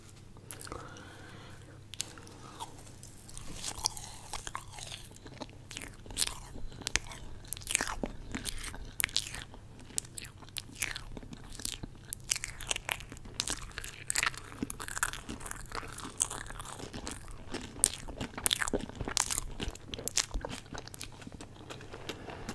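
Close, crisp bites and sticky chewing of sour sugar-coated marshmallows, a steady run of crunchy, wet mouth sounds with a soft hum underneath and no talking.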